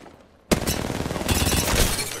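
Gunfire breaks out suddenly in Apex Legends with the player under fire. After a quiet moment a sharp burst opens into dense, rapid shots and impacts that stay loud and chaotic to the end.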